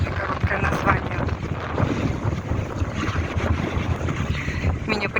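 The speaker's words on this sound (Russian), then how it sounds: "Меня прям ветром сдувает." Strong wind roars across a microphone outdoors by the water where passenger boats pass, a constant low buffeting rumble with gusty surges throughout.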